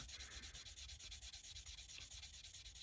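Fine-grit sandpaper rubbing over a gloss-varnished surface in steady, rapid back-and-forth strokes, close and continuous with an even rhythm and no voices.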